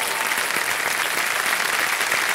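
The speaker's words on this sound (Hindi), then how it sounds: "तालियां बजाने के लिए" Studio audience on the KBC quiz show, Kaun Banega Crorepati, applauds a contestant's win in a dense, loud, continuous wash of clapping that stays even throughout the short stretch.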